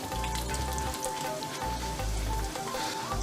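Cashew nuts and raisins frying in a pan, a steady close sizzle with low bubbling throughout, no voices.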